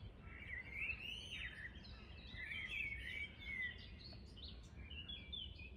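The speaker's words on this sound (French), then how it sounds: "On entend que les oiseaux, c'est un bonheur." Birds sing at around 5:30 in the early morning, a quiet outdoor chorus of chirps and warbling phrases at moderate distance over a soft low ambient hum.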